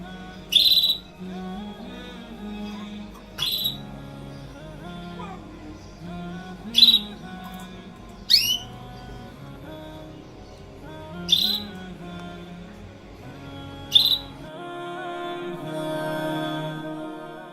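A bird gives six sharp, high whistling calls spaced a few seconds apart, close and clear over a quiet background with faint low rumble.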